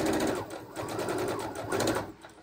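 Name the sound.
sewing machine stitching around a fabric pillow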